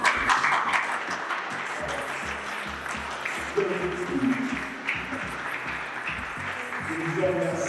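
Audience applause at the close of a lecture at a book and culture opening ceremony: sustained clapping from a room full of people, dense and steady throughout, rising and fading slightly, with a few voices under it.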